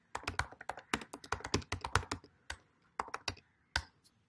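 Rapid keystrokes clatter on a computer keyboard in bursts of crisp, close clicks, pausing briefly before a few final isolated taps while a command-line program waits for input.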